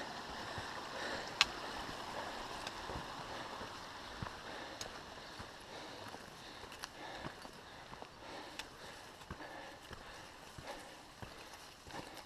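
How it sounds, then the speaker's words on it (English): Hikers splash and step through a forest creek in Glacier National Park, faint scattered footfalls and water sloshes over a quiet, steady stream murmur. "Here we are crossing a creek through this forest."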